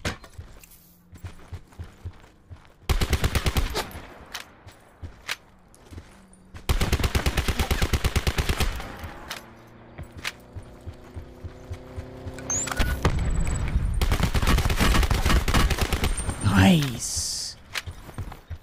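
Bursts of rapid automatic gunfire in a Call of Duty Blackout battle royale gunfight, loud and close, coming in several sustained volleys separated by brief pauses, with game effects and a voice talking in the background.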